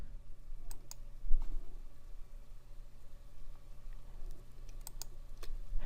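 A computer mouse clicks several times in sharp, separate taps while a drawing program is in use, spread irregularly over a quiet room with a low steady hum and no talk.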